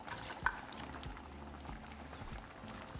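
Chicharrón pieces drop into a pot of simmering salsa, a soft gentle bubbling with a small clink near the start, faint and close throughout.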